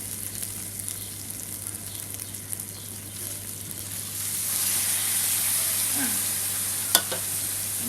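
Stewed pork ribs stir-frying with curry paste in a pan, a steady sizzle under scraping stirs that swells louder in the second half, with a sharp utensil clink near the end.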